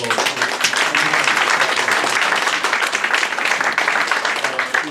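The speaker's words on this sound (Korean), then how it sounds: "여러분 박수로" Audience applause at a Korean political forum honouring a former National Assembly deputy speaker, with dense continuous clapping from a sizeable crowd in a hall, loud and sustained throughout.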